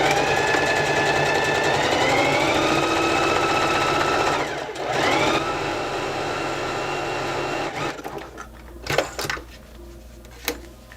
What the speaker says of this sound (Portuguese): Vai costurar aqui agora, vamos fechar a nossa peça no ponto flexível.